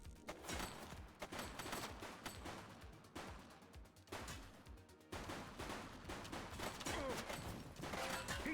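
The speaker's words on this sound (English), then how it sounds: "He's shooting." Relentless gunfire from The Precinct video game, with rapid bursts and volleys of shots overlapping into a loud, continuous barrage throughout.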